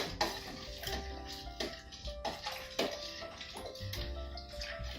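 Mulled wine with allspice and nutmeg being stirred in a pot, soft repeated scraping and sloshing strokes at a quiet level, close by, with no voices.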